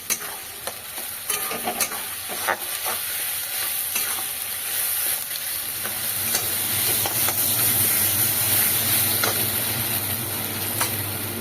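Cumin seeds and bay leaf sizzle in hot oil for a Bengali mutton and papaya-potato dish, a steady dense frying hiss with scattered pops and a few scraping stir strokes, close and continuous, no talking.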